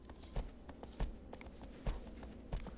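Horse hooves clip-clop in Shadow of the Colossus, a few spaced, soft thuds at an unhurried walking pace over a low ambient bed, faint and without talk.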